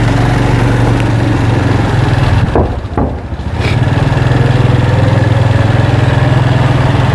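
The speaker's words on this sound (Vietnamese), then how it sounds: "hôm nay mời mọi người cùng tham gia lên với em đi xe máy nha." A motorbike engine idles with a steady low rumble, briefly dipping as it revs and pulls away to begin a ride through a narrow alley in Saigon's District 1.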